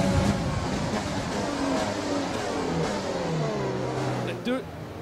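A Formula 1 racing car engine in the F1 2020 game revs and accelerates, a loud continuous whine rising steadily in pitch, with a voice talking over it throughout.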